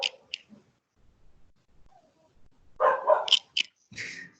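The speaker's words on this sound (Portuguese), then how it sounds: "Gente, tem cachorro latindo aí." A dog barks a few sharp times in the distance, with quiet gaps between the barks.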